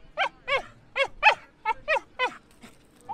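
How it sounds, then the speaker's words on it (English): Dogs bark near the start of a 100 km charity walk from London to Brighton, giving about eight sharp, close barks in a fairly regular run before falling quiet. "Looks like the dogs have joined us, Claire."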